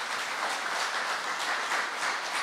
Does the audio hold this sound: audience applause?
yes